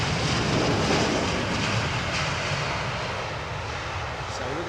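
Airliner arriving on runway 27R at London Heathrow, a loud broad jet roar close by that slowly eases as the aircraft passes.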